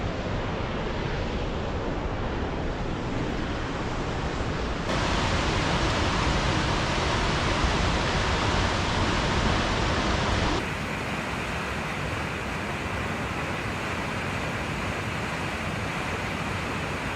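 Toketee Falls pours in a dense, steady roar of falling water, loud and close, unbroken for the whole stretch with no voices.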